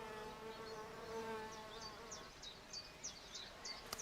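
Insects, presumably bees, buzz steadily around an old, decrepit garden wall whose lime mortar has been eaten away, a low continuous hum with faint bird chirps above it.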